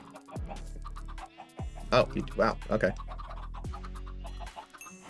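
Minecraft chickens cluck in bursts close by, with a few sharper squawks, while people talk over them.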